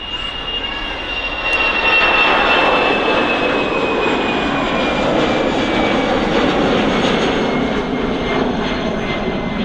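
A departing airliner at Manchester Airport roars on its takeoff run, the engine noise swelling after a couple of seconds into a loud, steady broadband rumble with a high whine, heard from a distance outdoors.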